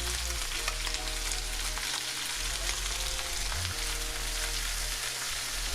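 Vegetables go back into a pot with browned oxtails and beef neck bones, giving a dense, steady sizzle and crackle with a low rumbling undertone throughout.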